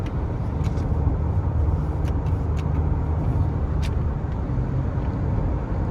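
A 2024 Toyota Corolla Cross Hybrid SE accelerates on the road, a steady low engine and road drone heard from inside the cabin, constant and fairly loud with no voices.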